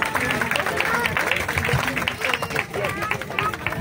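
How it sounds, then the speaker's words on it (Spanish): Strong applause from an audience at an afternoon community event in Tampamachoco, Tuxpan, clapping densely and steadily throughout, with crowd murmur and voices mixed into it. "lo recibimos con un fuerte aplauso de agradecimiento en esta tarde"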